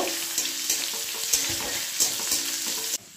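A whole onion drops into hot oil for tempering, setting off a steady, loud sizzle with faint stirring clicks, before a sudden cut near the end.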